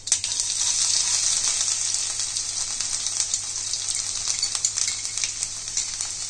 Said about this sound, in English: and green chilies, and saute it for 1 minute